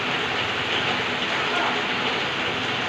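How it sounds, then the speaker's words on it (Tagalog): Heavy rain pours down in a dense, continuous wash of noise, loud and steady throughout with no clear pauses or voices. "Sa sobrang lakas ng ulan."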